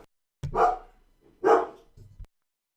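Dogs bark nearby, two loud barks about a second apart followed by a shorter, quieter yip, then silence.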